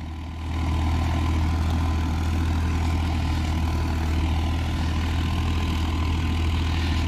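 A tractor pulling an 11-tine tiller in a farm field runs its engine in a loud, steady, low drone that holds constant throughout, with no voices.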